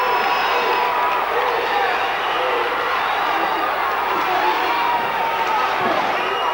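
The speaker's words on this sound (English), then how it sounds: "Listen to the crowd." Loud, continuous crowd cheering and roaring fills a high school boys basketball tournament gym after a basket and foul, sustained and dense throughout with a commentator's voice faintly underneath.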